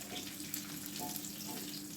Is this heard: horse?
no